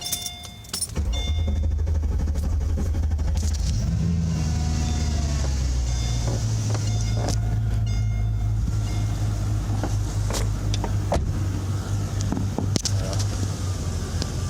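A Mercedes car engine starts after a brief crank and settles into a steady idle up close, with small clicks and clatter over the running motor.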